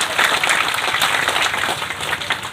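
An audience claps in welcome for a water resources minister at a public bridge-inauguration event, giving a loud, dense, continuous burst of applause with no clear pauses.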